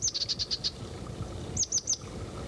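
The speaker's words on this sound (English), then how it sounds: "Its voice is a husky version of the familiar chickadee call." Husky chickadee-like calls from a small songbird in tall southwestern canyon trees: a quick run of about six high notes, a pause, then three more, moderately near and alone over faint background.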